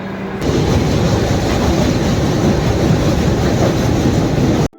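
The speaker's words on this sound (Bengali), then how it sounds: "সঠিক সময়ে ছেড়ে দিল আমাদের ট্রেন দার্জিলিং মেল শিয়ালদা থেকে" A loud, dense rumble of the Darjeeling Mail train departing Sealdah station fills the clip, steady and close, cutting off abruptly at the end.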